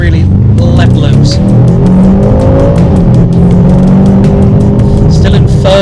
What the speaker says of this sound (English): Still in third gear at 70 miles an hour, really to get those revs up.